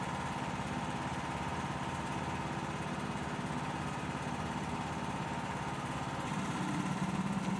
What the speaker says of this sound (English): With a variable speed drill, mix material slowly so a vortex is not created.